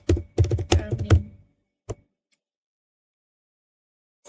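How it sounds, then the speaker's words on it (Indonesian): Keyboard keys clatter as a command is typed into a Cisco Packet Tracer router configuration, a quick burst of close taps followed by a single later keystroke and long silence. "Kita akan mengetik perintah di sini yaitu copy running"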